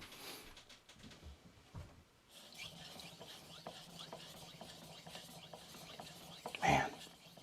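A blade stroked across an Altstone Fukami 3000 grit whetstone, giving faint, close, continuous rasping passes in a quiet room.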